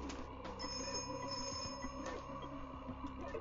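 A telephone rings in an indoor scene, its bell sounding in repeated steady bursts at moderate volume, with no talk over it.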